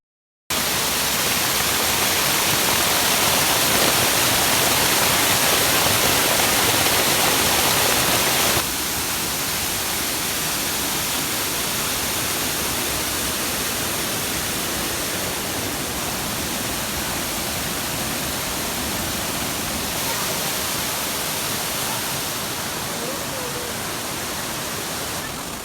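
Waterfall at Saif ul Malook lake, a steady broadband roar of rushing water heard close and loud throughout, slightly easing after the first few seconds, with no voices over it.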